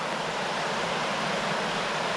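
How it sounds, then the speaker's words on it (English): River water rushes over rocks beside a caravan and motorhome campsite at Bolton Abbey, a steady, even hiss of flowing water with no voices. "seeing the water running over the rocks"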